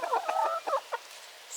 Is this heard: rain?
no